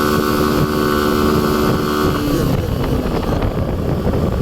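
Motorbike climbing a steep, dangerous hill road in first gear, its engine straining loud and steady up close, overlaid with heavy wind buffeting, its tone shifting partway through.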